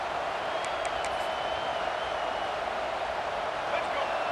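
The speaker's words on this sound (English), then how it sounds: "Listen to the crowd energy here in the early going." A steady wash of video game stadium crowd roar at an LSU vs South Carolina college football game fills the scene at an even level, with faint scattered cheers and a commentator talking over it.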